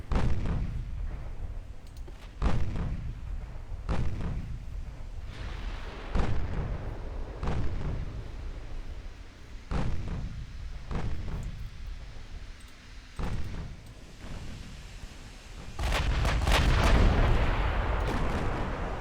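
Battleship guns boom repeatedly in Ultimate Admiral: Dreadnoughts naval combat, heavy irregular salvos every second or two with rumbling tails, building to a dense loud barrage near the end.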